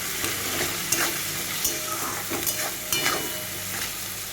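Chilli chicken sizzles and fries in a pan while being stirred, with a steady hiss broken by several sharp scraping stir strokes, close and loud with no talk.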